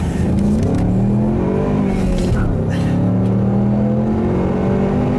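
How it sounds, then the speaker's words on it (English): A Ford Mustang accelerates hard, its engine note loud, close and steady as it climbs through the revs without a break. "I'll leave you guys with a nice little acceleration here"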